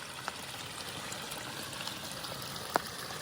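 Rainwater trickles and gurgles faintly as it runs across the ground and drains away underneath it after a rain event, a steady, quiet outdoor flow broken by a couple of soft drips.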